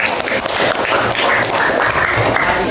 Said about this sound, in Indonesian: kita kasih tepuk tangan untuk Akil.